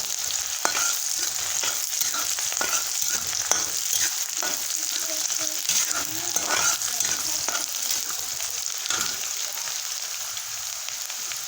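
Onion for masala pasta frying in a pan, a loud, dense crackling sizzle throughout, with light stirring taps scattered across it.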